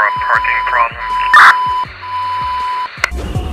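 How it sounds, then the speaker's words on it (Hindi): Buzzing interference noise from mobile phones in an airplane pilot's headset, a steady tone broken by bursty electronic pulses and beeps, loud and close, with speech partly under it. "इंटरफेरेंस का साउंड होता है"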